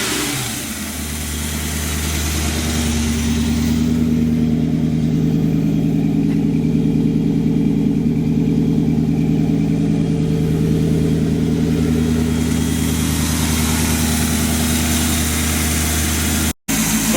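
A 350 engine in a 1966 Chevrolet C-10 truck running, a steady loud rumbling idle with a throaty low drone that swells slightly and holds, close by with no talking.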